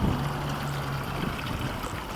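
In an aquaponics setup, a pump pushes water up a line and it flows back into a gravel bed, making a continuous close trickle and gurgle with a low hum that fades after about a second.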